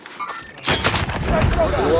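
A sniper rifle shot in a first-person shooter game lands as one sharp, loud blast, followed by a ringing tail and lingering in-game effects, with a voice heard faintly just before.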